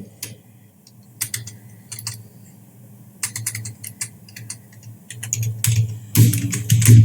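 Fingers type on a computer keyboard while entering an address into an Excel sheet: close, clicky keystrokes in quick bursts separated by short pauses, with a low hum beneath and no talking.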